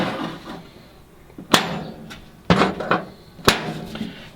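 Work on the bolts of a torque converter during transmission removal on a 1964 Chevelle, with several loud metallic whacks and knocks spaced about a second apart over quieter clinking.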